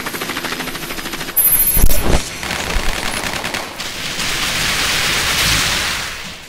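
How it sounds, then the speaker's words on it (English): An airstrike in Crisis Core: Final Fantasy VII lands as loud rapid gunfire bursts and a heavy impact, then a sustained roaring hiss of blasts and debris, with no talking. "Yes, another airstrike."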